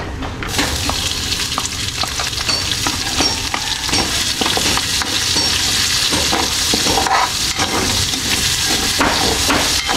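Garlic and onion fry in oil until golden brown for chicken curry, a loud, dense, continuous sizzle with spatula scrapes and clatters mixed in throughout.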